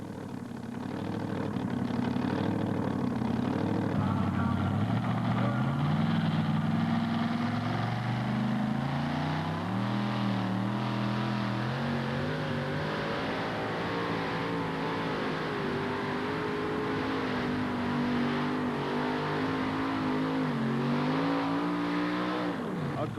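Modified pulling truck, the Midnight Express, roars at full throttle during a 1988 NTPA truck pull in Syracuse, a loud sustained engine note that bogs and climbs in pitch as it strains down the track.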